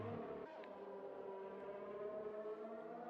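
Engine of a Formula 1 car in an F1 racing video game at the British round, a steady high whining drone that climbs gradually under throttle, loud and continuous.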